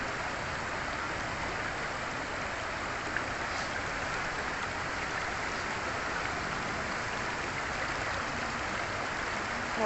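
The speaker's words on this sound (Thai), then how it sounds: "เสียงน้ำไหลนะคะ" Cold stream water flowing over rocks in Khiri Wong village, Thailand, makes a steady, even rush that continues unchanged throughout, fairly soft and with no voices.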